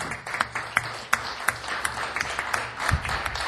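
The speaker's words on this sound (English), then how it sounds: "let's give them a round of applause for a job well done" Scattered applause from a city council meeting audience, a handful of distinct claps spaced across a few seconds, faint and fairly distant in a quiet room.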